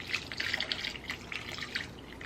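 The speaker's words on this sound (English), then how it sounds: "Let me just get some water." Tap water trickles and drips steadily into a measuring cup in a home kitchen while a slow-cooker beef stew is prepared, a soft close splashing with no talk.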